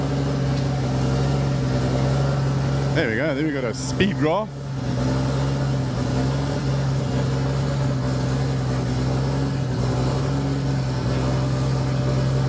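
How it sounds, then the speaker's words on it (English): A car engine idles steadily in the background at a hillclimb event, a continuous low hum under nearby talking. "That noise in the background is Wade's car that's just started."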